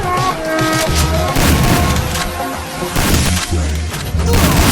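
Rapid gunfire from a shooter weapon in a video game, with dense bursts of loud shots and booming impacts that go on almost without a break over game music.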